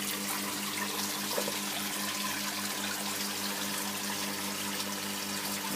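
Water runs steadily through an aquaponics filtration barrel that has been converted into a swirl filter with a sponge inside to trap solids. The rushing, splashing sound is continuous and even throughout, with a faint low hum underneath.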